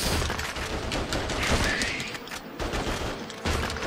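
Dense, continuous bursts of gunfire from the video game Attack of the Movies 3D, a loud rattling fusillade with booming hits that runs steadily without pause.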